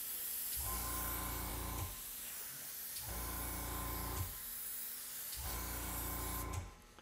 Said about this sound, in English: Now I'll close the tip of the airbrush down.